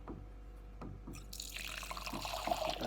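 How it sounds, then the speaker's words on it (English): Homemade Christmas wine runs from a barrel tap into a glass: a quiet start, then a steady, close splashing trickle that fills the glass for the last second and a half. "So let's pour glass."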